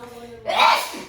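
A single sharp sneeze bursts out close by in a kitchen while chicken is being breaded in a grocery bag, rising quickly and then trailing off.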